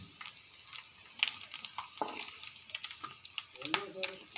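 Dried fish deep-fry in oil in a pan with a soft, crackling sizzle, quiet and close, broken by light stirring sounds.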